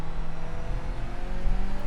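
A turbocharged BMW 1 Series M Coupe engine runs in Project Cars with a steady, buzzing drone held at a fairly constant pitch. The sound is loud and continuous, with a low rumble underneath.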